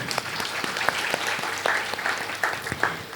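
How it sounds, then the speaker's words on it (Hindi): Scattered audience clapping at a spiritual gathering in Nadiad, Gujarat, with a few louder bursts over a steady patter and faint background voices. "तो आप अपने लिए भी तालियां बजाओ"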